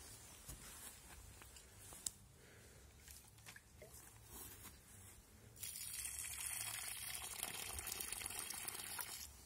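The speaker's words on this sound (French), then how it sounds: "ensuite, bien sûr, je répète, un bon arrosage." Freshly planted tomato plants being watered outdoors, with soft trickling and splashing that becomes a steadier, louder pouring stream partway through, faint and close.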